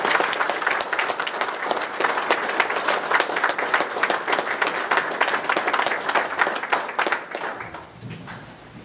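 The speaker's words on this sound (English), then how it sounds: "Ladies and gentlemen, please a round of applause" Loud, sustained audience applause at a Navy retirement ceremony, dense clapping from a large crowd that runs steadily for several seconds before thinning out and fading near the end.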